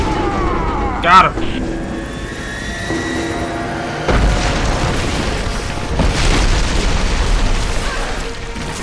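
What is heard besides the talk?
trebuchet shot exploding, video game Rise of the Tomb Raider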